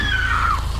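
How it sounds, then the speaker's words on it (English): A woman's high, piercing scream from a horror-drama television scene, one sustained shriek sliding downward in pitch and fading over under a second, loud and close. "obviously Buffy screams."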